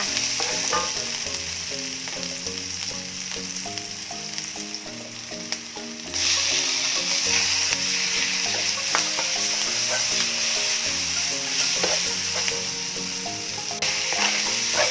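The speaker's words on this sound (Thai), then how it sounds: "ใส่หอมหัวใหญ่ลงผัดให้หอมค่ะ" Onions sizzle and crackle in hot oil, a constant close frying hiss with a few stirring clicks, louder after a brief dip.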